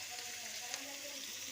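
Soybeans and drumstick frying in a pan, a faint, even hiss of sizzling oil held steady with little variation, close but quiet.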